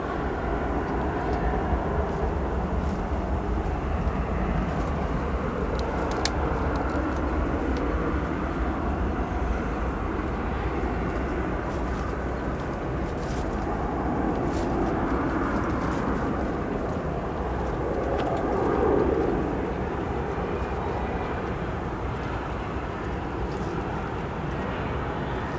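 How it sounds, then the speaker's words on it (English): A 27-year-old Boeing 747-400 bound for Anchorage passes at Chicago O'Hare Airport, a loud, steady low jet roar that holds at near-constant strength throughout, swelling slightly toward the end, with no talk. "4960, a 747-400, registered November 710 Charlie Kilo, headed to Anchorage, Alaska"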